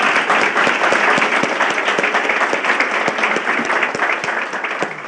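Sustained applause from a panel audience at a business conference on European market opportunities, dense steady clapping throughout at even loudness.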